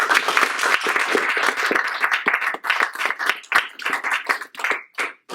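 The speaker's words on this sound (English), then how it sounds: "Let's give them one more round of applause." Audience applause after a panel introduction at a California ballot initiatives event, a dense burst of many hands clapping close and loud that thins into scattered claps over about five seconds.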